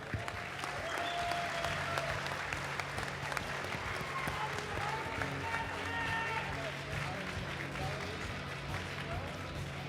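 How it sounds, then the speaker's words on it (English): A crowd at the QuakeCon 2014 finals party gives a long, steady round of applause, dense clapping filling the room with occasional cheers mixed in. "let's give these guys another round of applause"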